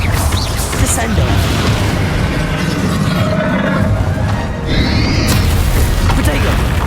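Descendo spell impact in Hogwarts Legacy: a loud, sustained booming rumble that dips briefly near the end, then surges again as a heavy crash.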